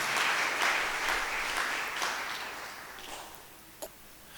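A church congregation claps together in a sustained round of applause that gradually thins and fades, ending with a few scattered claps, with no speech over it.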